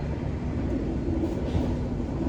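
A constant low rumble of the Kuto Jaya Utara passenger train rolling past in Indonesia, steady and fairly loud throughout, with faint squeals of wheels on rails and no voices.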